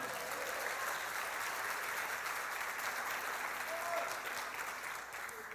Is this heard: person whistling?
no